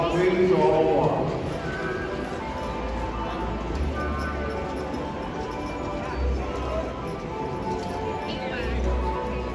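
Horse hooves clip-clop in a steady walking rhythm at a horse show as an announcer calls the class over a loudspeaker, with a brief whinny early on.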